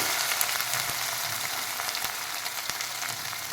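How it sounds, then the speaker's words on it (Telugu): Ginger-garlic paste fries in a pan for a rice dish, making a dense, even sizzle up close with a few faint clicks and no voices. "అల్లం వెల్లుల్లి పచ్చివాసం పోయే వరకు వేగింది"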